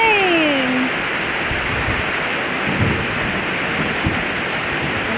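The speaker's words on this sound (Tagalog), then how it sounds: "Ang lakas ng agos" Strong floodwater rushing after a sudden heavy downpour, a loud, dense roar of water and rain that runs continuously, with a brief tonal sweep near the start.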